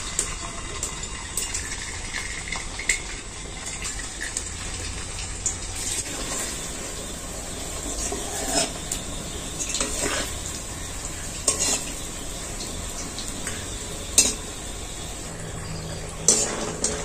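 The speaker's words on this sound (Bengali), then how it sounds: "একে একে কুরকুরেগুলো ভেজে নেব" Flattened-rice (chira) kurkure snacks fry in hot oil, a close, steady sizzle and bubbling broken by periodic clinks and scrapes of a spatula against the pan, with no voices.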